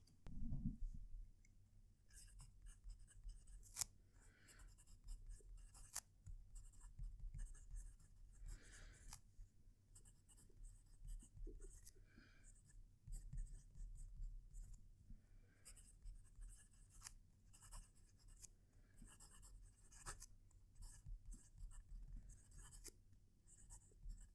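Close, dry scratching of a Moonman M600S fountain pen nib moving across paper in short strokes, with occasional soft clicks and taps, quiet and steady throughout.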